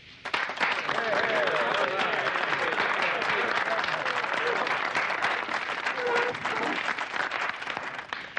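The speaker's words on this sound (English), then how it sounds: "we owe a big round of applause to our newest, bestest buddy and big toe" A big round of applause for a new buddy, Sergeant Hulka, among an army unit: dense, sustained clapping from a crowd that swells quickly and holds steady for several seconds, with faint voices mixed beneath.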